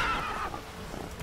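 A horse whinnies in The Witcher 3, a short bright neigh up front that fades into low background game ambience.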